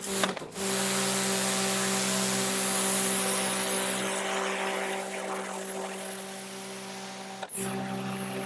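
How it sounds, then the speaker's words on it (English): An AVA Master P60 pressure washer runs with its turbo nozzle, giving a loud, steady motor whine and hissing spray that holds continuously, with a brief break near the start and another near the end. "So now I'm going to switch that one out and try using the turbo nozzle"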